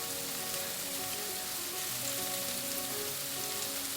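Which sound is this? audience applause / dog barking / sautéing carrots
sautéing carrots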